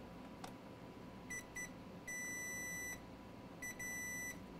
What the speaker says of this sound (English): Meter in continuity mode.